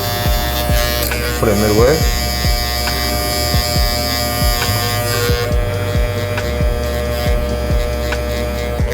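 Electric hair clippers with a half guard and lever taper a beard at home, a steady close buzz with brief changes in pitch as the blade passes, under a man's speech.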